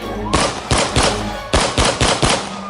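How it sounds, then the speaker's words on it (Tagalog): Two loud bursts of rapid gunfire, each a tight cluster of three or four sharp shots, separated by a brief pause. "makarinig ng sunod-sunod na malakas na putok ng baril."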